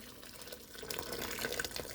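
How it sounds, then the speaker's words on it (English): Freshly boiled water poured from a kettle into a cooking pot, a soft steady splashing pour that builds slightly in the second half, faint and alone without talk. "I've just boiled the kettle and I'm going to add"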